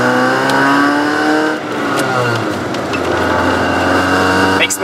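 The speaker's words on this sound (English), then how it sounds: "When you accelerate, the exhaust does not sound impressive." A modified car exhaust sounds while the car accelerates, a rising engine drone with climbing harmonics, heard from inside under steady talk.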